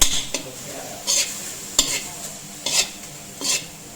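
Thai curry paste stir-fried with chicken skin in a pan: a soft sizzle under five distinct, evenly spaced scrapes and clinks of a utensil against the pan, close and alone.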